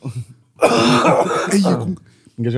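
A person chokes and coughs harshly, a sputtering throaty fit of coughing and throat clearing at close range, with short pauses between bursts.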